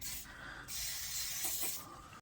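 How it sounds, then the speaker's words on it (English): Penetrating oil sprayed onto the nuts and bolts of a 2015 Nissan Qashqai's lower suspension control arm gives steady, close hissing bursts, one long spray following a shorter one. "we're gonna spray plenty of penetrating oil on these nuts and bolts to make it easy"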